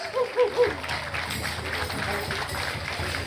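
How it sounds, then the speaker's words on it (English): A crowd applauds the head woman dancer at a 2018 powwow. Broadband clapping swells after a few brief tones and holds steady to the end, with some voices mixed in. "Give her a round of applause."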